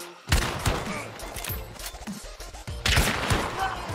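Gunshots ring out in the first-person shooter Hunt: Showdown, two loud, close blasts with echoing tails, one near the start and another about two and a half seconds later.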